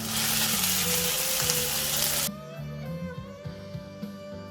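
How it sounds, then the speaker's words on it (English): Calamari hits a hot pan with ginger garlic paste, a loud burst of hissing sizzle that abruptly drops to a softer crackle with scattered pops and stirring clinks. "Now I'll add the calamari."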